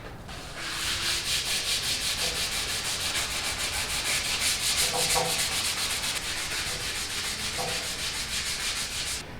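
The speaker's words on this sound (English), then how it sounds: "So we're going to hit it with the 120, see how it looks. Scuff and shoot. So we're just scuffing it up is all we're doing." Scuff sanding an old furniture finish with 120-grit paper, a steady close rhythmic rasp of back-and-forth strokes continuing without pause.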